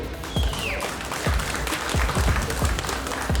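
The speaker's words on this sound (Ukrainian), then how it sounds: "оплески бійцю" Audience at a bare-knuckle fight event applauding a fighter: dense, steady clapping from a crowd, with a few louder individual claps and a faint whistle near the start.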